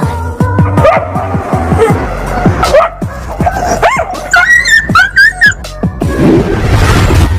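A dog whimpers and whines in high, wavering cries, broken by sharp yips and short barks, close and loud.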